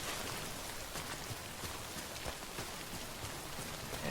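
Steady patter of video game rain falling on a surface in Death Stranding, soft and continuous, with scattered drops ticking out more sharply.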